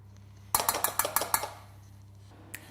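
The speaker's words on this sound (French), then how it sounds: "Christophe, on a vidé le pot de miel et on le met dans une casserole." Honey being emptied from its jar into a saucepan, heard as a quick run of sharp metallic and glassy clinks and taps, close and fairly loud, then a pause and one more faint knock.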